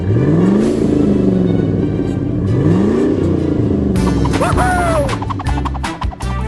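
A monster truck in an animated story roars along a deserted road amid crackling lightning, loud engine revs rising and falling in sweeps, followed by crashing and thudding impacts near the end.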